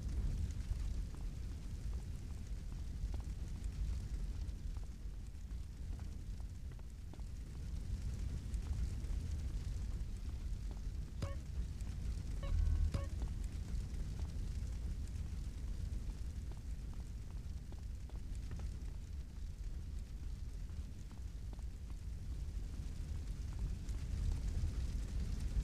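Flames from a house fire in GTA San Andreas burn as a low, steady rumbling roar, faint and continuous, with a few small crackles near the middle and no voices.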